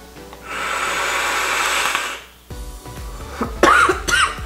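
A woman coughs hard several times after vaping nicotine e-liquid, a long harsh rasping burst followed by shorter close coughs and throat sounds.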